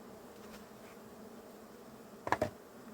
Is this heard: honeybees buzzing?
yes